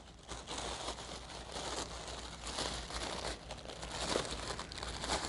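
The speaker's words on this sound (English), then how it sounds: "So I'm going to do the same thing for my orange layer and fold it up towards that center." Orange tissue paper crinkles and rustles as it is folded up toward the center of a kids' tissue paper flower, a continuous close crumpling with sharper crackles near the end.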